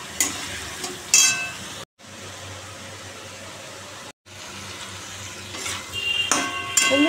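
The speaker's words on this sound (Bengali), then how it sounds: "এখন আলুটা ভালো করে কষাচ্ছি মশলাটা দিয়ে" Potatoes being sautéed with spices, bay leaf and cumin in a pan, giving a steady sizzling hiss with brief stirring scrapes and two short breaks in the sound.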